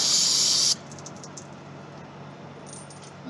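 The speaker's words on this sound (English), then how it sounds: "I'll spray them down with some brake cleaner" Brake cleaner sprayed onto turbo gasket nuts and bolts, one loud close hissing burst lasting under a second, then stopping abruptly into quiet room tone.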